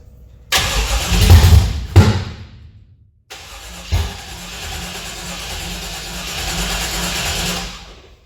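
Engine on a home-built HT project cranking on its first fire-up attempt via a wired starter relay, with a short burst, a pause, then a longer steady cranking run that does not catch, loud and close.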